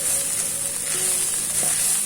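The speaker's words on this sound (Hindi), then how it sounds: "3 से 4 मिनट इसे ऐसे ही हिलाते रहना है और पका लेना है।" Chicken spring roll filling sizzles in a pan while being stirred, a close, continuous frying hiss with a few soft scraping touches and no voices.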